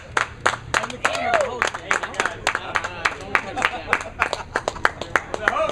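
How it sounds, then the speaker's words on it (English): Scattered, uneven clapping at an awards gala as a small audience applauds the host, individual sharp claps in an irregular rhythm, fairly close, with a voice talking over it. "Have an applause to our host."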